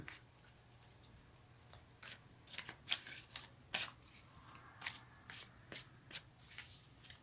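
Tarot cards are shuffled by hand in a run of crisp, riffling bursts and soft flicks, close and fairly quiet with no talking.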